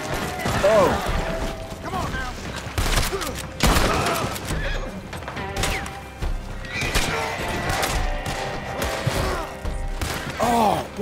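A horse whinnies repeatedly in the Red Dead video game, set among mechanical clatter, hoofbeats and bursts of gunfire, with brief talk mixed in.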